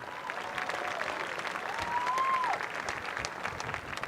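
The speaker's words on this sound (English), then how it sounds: "That deserves a round of applause," A high school graduation audience applauds in a sustained, even roar of many hands clapping, moderately loud and somewhat distant, holding steady for the whole stretch with a brief faint tone drifting through.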